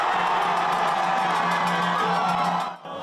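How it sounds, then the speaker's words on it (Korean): A dense crowd cheers and whoops loudly outdoors at the old South Jeolla provincial office in Gwangju, a sustained roar that drops off abruptly near the end. "45년 전 통곡 소리가 들렸던 옛 전남도청에는 환호가 터져 나왔습니다."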